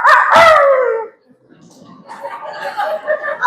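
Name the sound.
man imitating a dog growling at a rival dog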